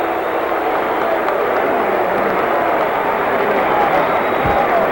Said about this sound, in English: the reaction of the crowd speaks for itself